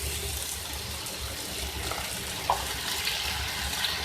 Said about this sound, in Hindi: 2 टेबलस्पून के करीब इसमें मैं वाटर ऐड कर रही हूँ